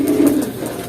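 Racing pigeons coo close by in a short, low, throaty burst, loud and with no other sound.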